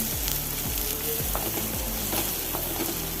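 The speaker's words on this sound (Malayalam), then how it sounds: "എണ്ണ ചൂടായി സവോള എരിഞ്ഞത് ഇട്ട് കൊടുക്കുക" Sliced onion frying in a tablespoon of hot sunflower oil in a kadai, a dense continuous sizzle with repeated rhythmic scraping strokes of a spatula, close up and steady, with no voices.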